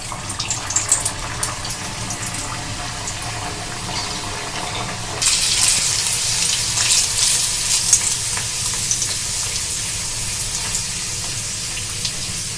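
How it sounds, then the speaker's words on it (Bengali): Lentil-stuffed kochori dropped into hot oil and deep-frying, a steady close sizzle that jumps louder and brighter midway as the dough hits the oil, then holds a dense crackling hiss with no talking. "এবার আমি এই মসুর ডালের কচুরিটা তেলেতে দিয়ে দিচ্ছি"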